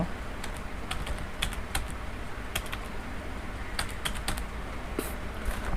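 Typing on a computer keyboard to fill in address details on an online form: quick, irregular clusters of close, crisp keystrokes with short pauses between them.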